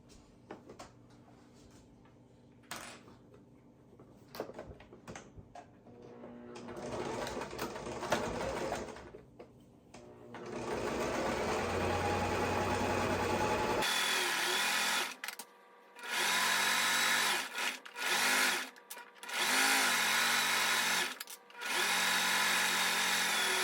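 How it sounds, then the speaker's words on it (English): Sewing machine stitching a quarter-inch seam down the long pinned edge of a fabric apron strap, starting with short quiet bursts, then running in long loud stretches broken by brief pauses for backstitching. "We want to sew a 1/4 inch seam all the way down the long edge that we pinned, back stitching at the beginning and at the end."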